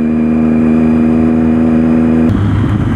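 A Triumph 675R Daytona three-cylinder sport motorcycle accelerates hard, its loud steady engine drone climbing in pitch before shifting into a rougher, lower roar near the end.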